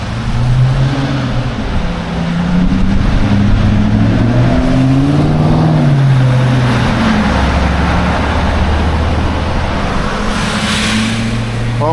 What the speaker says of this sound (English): There is a lot of traffic passing through right now.